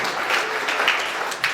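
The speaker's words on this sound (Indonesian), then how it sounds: "Tepuk tangan lebih baik bagi orang kita." Applause from a church congregation during a Sunday sermon at a GBI church, a steady wash of many hands clapping together, fairly close and even, with a couple of brief swells toward the end.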